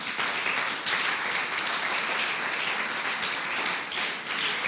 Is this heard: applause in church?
yes